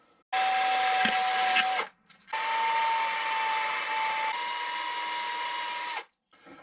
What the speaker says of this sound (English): I'll make a couple of very small guide holes for the screws to hold it in place